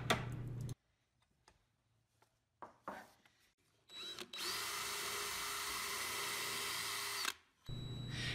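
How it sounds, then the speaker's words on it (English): A drill pre-drilling hardwood for a brad nail while making an interlocking wall shelf, preceded by scattered handling clicks, then a steady whirring run of about three seconds that stops and briefly restarts. "It's important to pre-drill before driving any sort of nail into hardwood because you don't want the wood to split."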